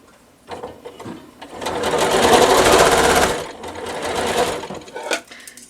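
A sewing machine runs close up stitching pieces of a nine patch star quilt block, starting with a few short bursts, then a steady loud run, a brief slowdown and another stretch of stitching.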